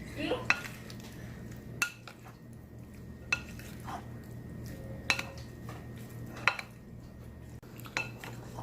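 Sweet potatoes being mixed with squeezed orange juice in a dish, with repeated clinks and scrapes of a utensil against the dish at an uneven pace over a steady low background hum.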